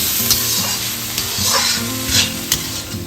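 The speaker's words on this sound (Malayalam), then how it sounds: "ഇനി കളർ മാറുന്ന വരെ ഒന്ന് നമുക്ക് വഴറ്റിയെടുക്കാം" Finely chopped onions sauté in ghee for a chicken roast, with a loud steady sizzle up close and a utensil stirring and scraping through the pan now and then, no talking.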